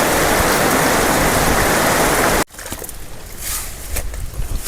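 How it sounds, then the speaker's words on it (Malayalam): Heavy rain pours down loud and close in a dense, steady roar for about two and a half seconds, then cuts abruptly to a much quieter outdoor scene. "പെട്ടെന്നൊരു മഴ വന്ന് അപ്പോൾ ആകെ വെള്ളമായി ഇവിടെ"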